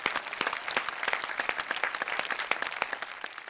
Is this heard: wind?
no